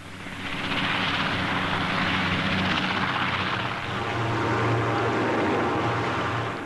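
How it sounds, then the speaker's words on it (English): Military aircraft and squadrons of helicopters fly over the Farnborough air show in 1966, a broad, continuous roar of engines and rotors that stays loud throughout and swells slightly toward the end, with no talking. "Twin Rolls-Royce Spey engines pack a wicked punch for the Buccaneer"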